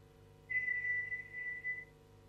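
A person whistles into an augmented-reality whistle meter app on Glass. A single steady high note holds for over a second, quiet and close, with no talking.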